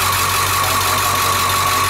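A 2001 International CE200 Type C school bus with a T444E diesel engine idles close by, a steady low rumble with a constant drone and no voices.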